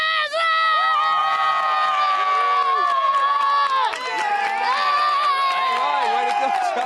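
A young fan named Justin leads a loud Texas Rangers stadium crowd cheer from the left field bleachers, his long shouted chant rising over a dense roar of cheering fans.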